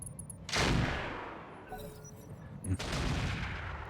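Weapon fire from a Thunderbolt mech in BattleTech (RogueTech mod) erupts in two loud broadband blasts about two seconds apart, each trailing into a rumbling decay over low battle noise.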